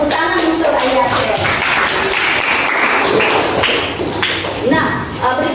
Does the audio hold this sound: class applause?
yes